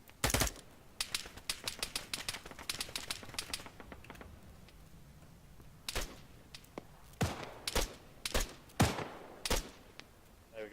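Machine gun fire in the Arma 3 video game, sharp bursts of automatic shots and scattered single cracks, some close and loud, others fainter and more distant, with quiet gaps between.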